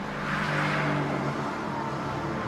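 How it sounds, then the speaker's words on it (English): Mercedes-AMG GT R engine roaring steadily while the car slides sideways through its own tyre smoke, a loud sustained drone with a slight swell early on. "Make a lot of noise while sliding through a cloud of its own tyre smoke"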